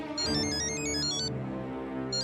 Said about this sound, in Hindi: सोडी का फोन है? उठाइए ना, उठाइए